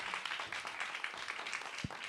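An audience at a cultural quiz night applauds steadily throughout, a dense wash of many hands clapping with no pause and no talk.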